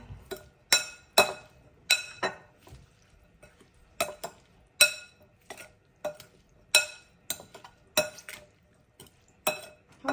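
Minced pork laab is stirred in a bowl with a utensil, giving a series of sharp clinks and scrapes in an irregular rhythm with quiet gaps between them.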